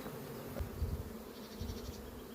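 Honeybees buzzing inside a bucket, a continuous low droning hum at moderate level with faint scattered higher whines, steady throughout.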